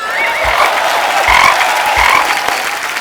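Frog croaking sound effect played on a comedy stage show, several loud repeated croaks in short bursts with a crowd murmuring and clapping underneath.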